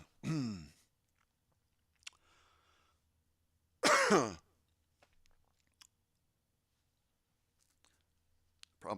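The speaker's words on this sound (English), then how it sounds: "Probably should have muted myself before I start coughing into the microphone" Someone coughs close into a microphone in two loud, harsh bursts separated by seconds of near silence, with small clicks and faint throat noises between them.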